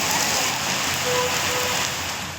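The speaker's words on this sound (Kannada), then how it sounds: "ಗಾಳಿ ಮಳೆ" Heavy rain and wind pour down on a street in Mysuru, a dense, unbroken wash of drops hitting surfaces at close range, with no voices present.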